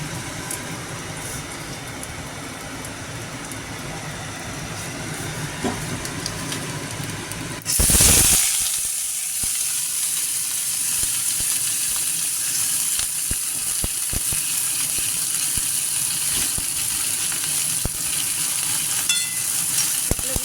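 Water lily stems drop into hot oil tempered with nigella seeds, green chillies and dried chillies, setting off a sudden loud burst of sizzling that settles into a steady, close crackle of frying.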